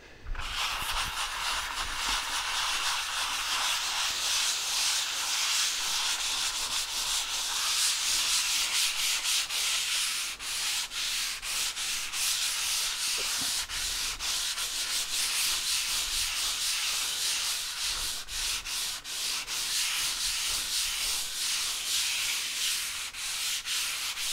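Steady, close abrasive rubbing of sandpaper over drywall by hand in a circular motion, a continuous scratchy hiss with rhythmic strokes and no talking.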